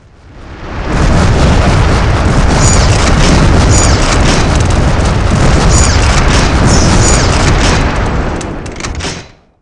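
Explosions in the 1998 mech game Shogo, played on Windows 11: a continuous, very loud roaring blast that holds steady for several seconds with crackling bursts on top, then fades out. No talking.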